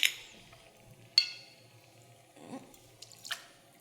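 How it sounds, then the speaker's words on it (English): Three ounces of vodka poured into a glass for a mixed drink, heard as a few brief, close drips and splashes with a light glass clink, quiet and sparse with no talk. "Add 3 ounces of vodka."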